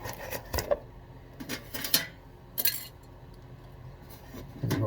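Sharp metallic clinks and clatter from handling a motorcycle starter ring gear, a few scattered hits over light background noise with a heavier clunk at the end.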